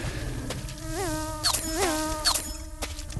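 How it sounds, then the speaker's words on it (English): Wasps in the game Yeeps buzz close by in short whining passes that swoop up and down in pitch, several overlapping over a low background rumble. "I hate the fat bugs, or these wasps."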